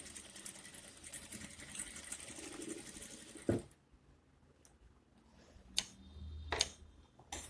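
A sewing machine runs a strengthening stitch on a chemise, its rapid ticking whir close and steady for a few seconds before stopping, followed by a few isolated clicks and knocks.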